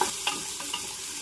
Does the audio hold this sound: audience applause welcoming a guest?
no